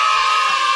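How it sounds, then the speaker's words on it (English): Shrill crowd of children cheering and whooping, a steady continuous roar held for a brief moment without pause. "Even the kids are cheering Newt Churchill."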